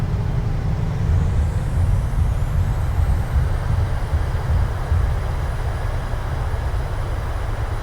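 Thrust reversers on a PMDG 737-800 roar in Microsoft Flight Simulator after landing, a loud steady low rumble and rush of air that holds for several seconds with a faint rising whine and no talk.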